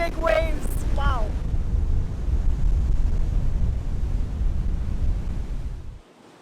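Strong wind howls and roars in a dense, steady wash with heavy waves surging against limestone cliffs at Black Point, with a few brief voice sounds near the start before the noise cuts off sharply near the end.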